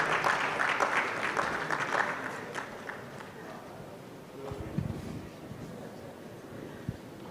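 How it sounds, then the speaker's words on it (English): Audience applause at an education forum in Kumasi greets a presenter heading upstage. Fairly dense clapping opens the stretch and thins to scattered claps and faint noise, with some talk in the background. "A round of applause for him as he gets upstage here."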